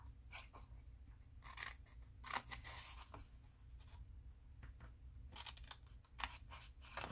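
Scissors snipping through paper to trim a square off a tuck pocket for ephemera crafting, giving faint, close, intermittent crisp cuts over a steady low hum.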